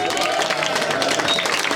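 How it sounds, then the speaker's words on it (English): Brief burst of audience clapping at a comedy club show, a dense, fairly loud patter of hands mixed with some crowd murmur. "So let's have a bit of clapping."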